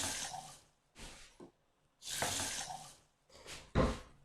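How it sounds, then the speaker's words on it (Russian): Water pouring into a saucepan of buckwheat in a kitchen, several hissing gushes from a tap in separate bursts with short pauses, quiet and close, no voices. "Гречку высыпаю в сотейник и добавляю воду в соотношении 2 к 1"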